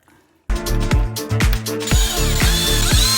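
Close, loud mechanical clicking as a tool ratchets a fastener tight on a Kraken RC car, with a quick burst of repeated clicks over a ringing metallic hum.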